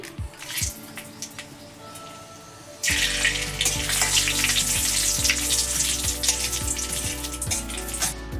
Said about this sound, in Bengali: চিংড়ি মাছ ভাজার তেলেই দিয়ে দিচ্ছি এলাচ, লবঙ্গ, দারচিনি।